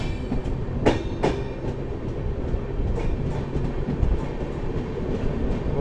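Chalukya Express, running from Dadar to Tirunelveli via Bengaluru and Salem, passes by with a steady, loud rumble and rhythmic wheel clatter, plus a couple of brief high squeals near the start.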